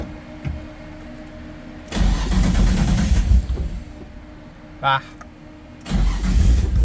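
Nissan 240SX engine on a cold start, the starter cranking in two bursts with a short pause between, then catching into a rough idle, under a brief voice.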